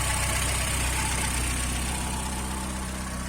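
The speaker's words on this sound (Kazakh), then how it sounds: "Унанын абалы жакшы, жүрүп турат." A car's engine idles at a sale viewing, a dense, constant hum with a low throb, close and steady throughout, with no voices.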